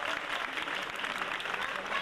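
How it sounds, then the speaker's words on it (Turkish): Dense, continuous applause from an audience at a cultural association's anniversary event, welcoming a Bosnian-Turkish folklore dance group to the stage, steady and fairly distant with no distinct voices. "folklor ekibini alkışlarınızla sahneye davet ediyorum"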